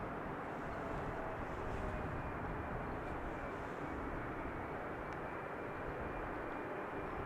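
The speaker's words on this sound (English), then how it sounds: "777 inbound from Atlanta, 777-300ER, in fact, 6 years old." A KLM Boeing 777-300ER arriving at Amsterdam Schiphol makes a steady, broad jet roar, a constant, moderately distant wash of engine noise that holds evenly throughout with no talk.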